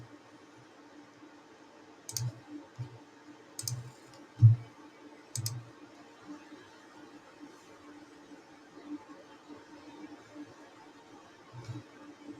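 Computer mouse clicks during software installation on Windows Server, sharp short clicks in a few separated bursts, close and fairly quiet over a low steady hum.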